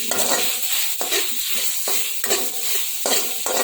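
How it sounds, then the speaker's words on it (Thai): Stuffed-egg filling with sugar is stir-fried in a pan, with a close, continuous sizzle broken by repeated scraping strokes of a spatula about once a second, and nobody speaks. "ก็ผัด ให้เข้ากันอีกรอบนะคะ"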